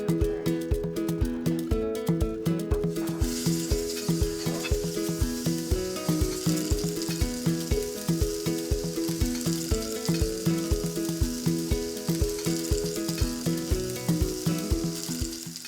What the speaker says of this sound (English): we're gonna go ahead and fry those up in the skillet